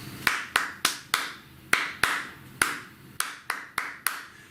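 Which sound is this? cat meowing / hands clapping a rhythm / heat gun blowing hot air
hands clapping a rhythm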